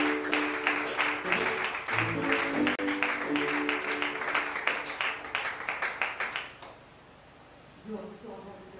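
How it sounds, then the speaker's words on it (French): Congregation at a French-language church service clapping and cheering as Brother Sarlin is welcomed up, a dense sustained wave of applause that thins and fades out near the end. "Lorsqu'il vient, on acclame pour lui."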